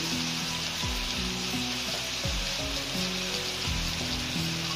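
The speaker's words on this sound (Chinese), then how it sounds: "把我们准备好这个辣椒把它放下去" Chili peppers dropped into a hot wok of cured Guangxi fish and stir-fried, giving a constant loud sizzle with repeated scraping and tossing strokes of a spatula, close up and without talk.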